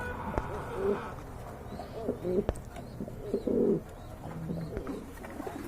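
Pigeons coo in several soft, rumbling bursts at a busy pigeon market, with a few sharp knocks and background bustle around them.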